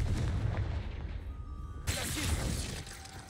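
The Confringo blasting spell fires in Hogwarts Legacy as a heavy booming explosion with a sharp shattering burst midway, over a dense rumbling game soundscape.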